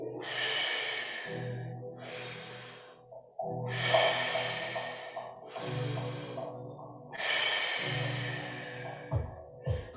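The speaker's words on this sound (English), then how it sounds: "3 more, inhale." Slow guided breathing during a group exercise session: a series of deep, audible inhales and exhales alternating in steady cycles of a couple of seconds each, close and fairly loud, with no talk over them.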